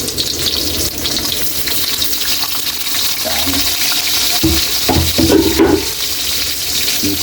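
Garlic and onion frying in oil for pork humba, a steady loud sizzle and hiss running throughout, with a few clattering knocks of utensils partway through.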